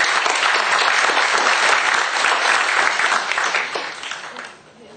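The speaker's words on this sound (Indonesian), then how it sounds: "Beri tepuk tangan dong." A seminar audience claps in a loud, dense burst of applause that holds steady, then thins and fades toward the end, with no one talking over it.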